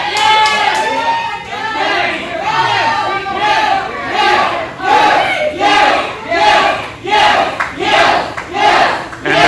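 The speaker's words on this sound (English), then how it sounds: "And the crowd telling Shane Rich to not accept this peace offering." A pro wrestling crowd at an indie show shouts at a wrestler in loud, swelling chants that rise and fall in repeated waves, close and energetic, with a commentator talking over it.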